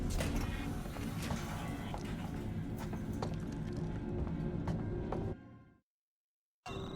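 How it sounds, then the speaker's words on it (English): Footsteps of a character walking through the Alien: Isolation video game, a steady run of soft taps over a dense, loud ambient game soundscape that drops out abruptly near the end before returning. "But I'm hearing our footsteps."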